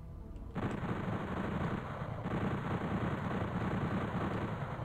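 Rapid machine gun fire from the 1996 Sega Saturn port of Doom, a dense continuous burst of loud shots starting after a brief quiet moment and running steadily to the end.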